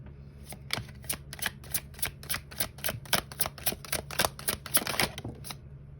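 Oracle cards being shuffled by hand, a rapid run of crisp riffling snaps repeating in a steady rhythm for several seconds, close up over a low steady hum with no talk.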